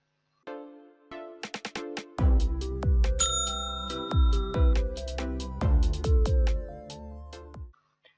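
A bright chiming bell jingle rings out as a short melodic sequence of struck tones, clean and alone with a resonant low thud under each strike, fading out at the end.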